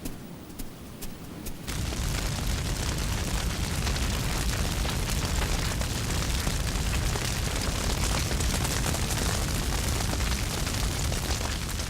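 Fire set by Aboriginal hunters sweeping through Australian bush as kangaroos flee: after a brief quieter start, a loud, continuous crackling roar of flames fills the scene without letup.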